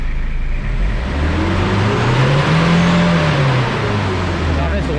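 Turbocharged car engine revving after its turbo blow-off valve has been adjusted, loud and close, with a steady drone rising to a peak mid-clip and then falling away, voices talking faintly underneath.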